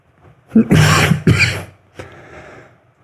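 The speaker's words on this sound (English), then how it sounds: "There's a lingering cough with this." A person with a lingering post-COVID cough coughs twice in quick succession, close and loud, followed by a softer throat-clearing sound.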